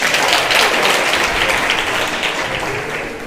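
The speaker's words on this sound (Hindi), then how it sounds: "मेरी बात सुनने के लिए बजाओ ज़ोरदार ताली।" A school audience at a debate finale in Delhi clapping loudly, a thick continuous wash of many hands that stays strong and slowly eases toward the end.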